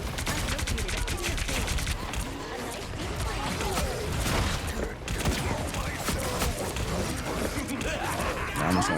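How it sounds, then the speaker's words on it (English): Widowmaker's sniper fire in Overwatch lands amid a dense, continuous barrage of gunshots and combat noise during a ranked match. "this Widow is just shooting the hell out of me."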